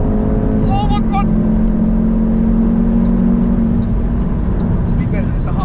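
A 2018 Jaguar F-Type 2.0L P300 four-cylinder engine hums loudly from inside the car, a steady drone that swells and holds as it pulls, with voices talking over it.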